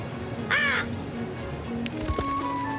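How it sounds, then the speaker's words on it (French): A single crow gives one loud, harsh caw close by, followed by faint clicks and rustling against a low steady background hum. "il y a le corbeau."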